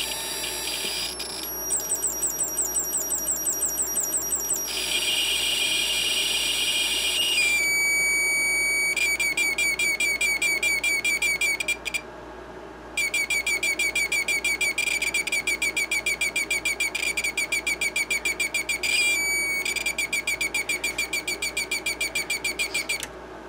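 Piezo whistle chip in a Snap Circuits oscillator project sounding from a small speaker, shrill pulsing electronic tones that shift pitch and repetition rate as resistance changes, with brief gaps between stretches, no voices.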